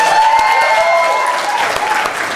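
A live seminar audience claps and cheers loudly and steadily from start to finish, a dense wash of applause with a few shouts rising above it.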